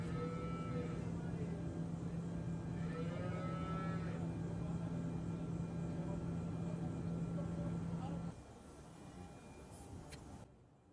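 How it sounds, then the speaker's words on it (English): Young dairy calves moo repeatedly in a barn where hoof trimming is done, several drawn-out calls overlapping across a steady background drone before the noise drops away near the end. "from me and all those noisy baby calves"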